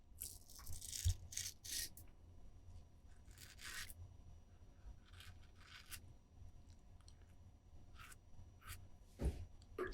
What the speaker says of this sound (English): So going around the curve of my jaw and my chin, as you'll see in a moment, this blade is proving to be very, very smooth and sharp